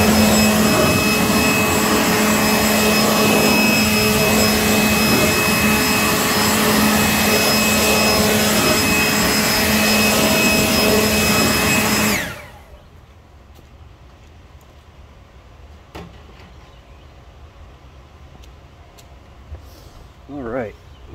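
A blower roars loudly and steadily while drying a car wheel after a touchless wheel cleaner wash, then cuts off abruptly about halfway, leaving near silence with faint handling noises.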